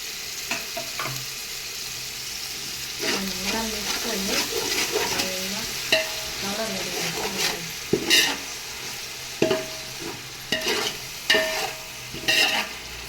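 Yogurt poured over fried ginger garlic paste sizzles in a pot for chicken biryani, stirred with repeated scraping strokes and a few sharp clanks of the spoon against the pot's rim, under a steady frying hiss.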